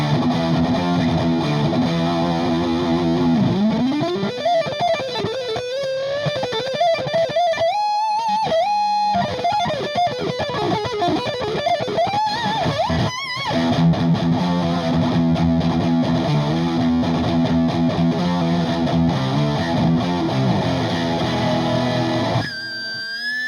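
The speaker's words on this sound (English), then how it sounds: "this is what it sounds like with distortion and" Electric guitar through a Boss DS-1 distortion pedal with distortion and level maxed: loud, saturated sustained chords and a bending lead line, buzzing and thick, played alone and close.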